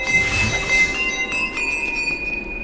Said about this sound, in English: Now we gotta hit the bell.